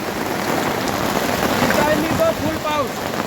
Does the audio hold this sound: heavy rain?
yes